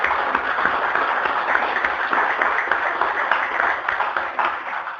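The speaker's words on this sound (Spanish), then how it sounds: "por el cual pido un aplauso" Sustained audience applause fills a political talk on the classist left and workers' assemblies, a dense, steady clatter of many hands held at even loudness for the whole stretch.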